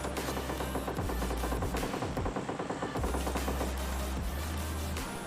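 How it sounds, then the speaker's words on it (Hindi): Automatic gunfire in the mobile battle-royale game PUBG Mobile Lite, with rapid repeated bursts of shots running steadily throughout, loud and dense with no talk. "मुझे जोन के बाहर से गन साउंड आते हैं"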